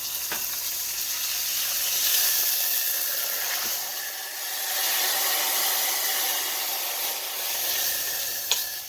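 Hot olive oil with minced garlic poured into an Instant Pot Italian cauliflower soup, making a continuous loud hissing sizzle that swells and fades in waves, with a few small clicks and no voices.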